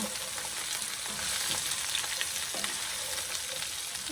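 Mixed vegetables for a breakfast bhaji frying in a pan, a dense, continuous hiss of sizzling oil at steady volume, close by with no voices.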